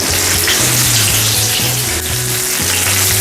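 Fish katsu fries in hot oil until golden brown, giving a loud, dense, continuous sizzle and crackle with faint stirring knocks underneath, and no voices.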